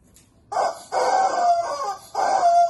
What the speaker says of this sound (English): Who doesn't have a rubber chicken?